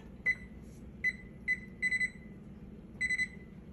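A kitchen timer is set during baguette baking, giving a series of short, sharp electronic beeps, some single and some in quick pairs or triples, close and clear over a quiet room.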